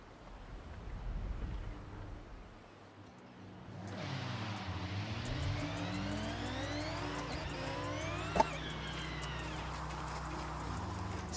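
A car engine in the racing game Forza Horizon played on a wheel, rising and falling through gear shifts as it revs and accelerates, with clopping horse-like hoofbeats and quieter rumble before it starts.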